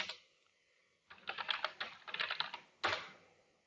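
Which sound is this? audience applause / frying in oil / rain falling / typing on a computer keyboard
typing on a computer keyboard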